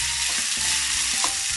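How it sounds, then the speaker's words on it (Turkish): Vermicelli fries in oil in a pan for rice pilaf, a continuous bright sizzle with soft stirring scrapes, close and steady throughout. "Evet, şehriyelerim kızarmaya başladı."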